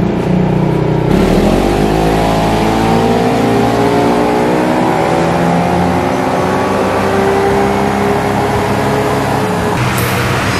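A Yamaha XMax scooter on an Axis Dyno VX-5 dynamometer revs hard and close, its engine and roller whine climbing steadily in pitch over several seconds before dropping abruptly at the end.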